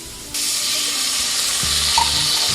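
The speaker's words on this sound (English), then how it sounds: "We're going to go ahead and add our chipotle peppers." Canned chipotle peppers hit a hot pan and start a loud, steady sizzle that keeps hissing throughout, with a faint scrape of stirring near the end.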